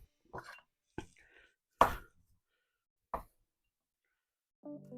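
A knife taps and scrapes on a cutting board while the skin is cut off shallots: a few sharp, separate clicks spread out with quiet gaps between them, close and fairly faint.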